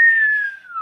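A steady whistling tone from the built-in whistle on a flying Nerf football, held for just under a second and dropping slightly in pitch, loud and close with no voices.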